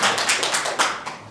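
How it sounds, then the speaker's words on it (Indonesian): Students in a microteaching classroom session clap for a classmate, a short close burst of about six or seven loud, rhythmic claps that trail off after about a second, with no talking. "Bagus Vika, beri tepuk tangan kepada Vika."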